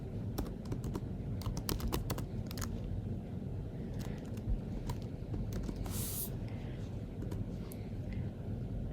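Quick clicking keystrokes on a computer keyboard while coding, bursts of light taps over a steady low hum, fairly faint and close, with a brief airy swoosh midway.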